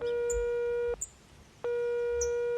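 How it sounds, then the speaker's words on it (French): Landline telephone tone heard from the caller's side, two steady electronic beeps separated by a short gap, clear and fairly loud with nothing else in the background. "Le jardinier sort son téléphone et il appelle le fixe de la maison."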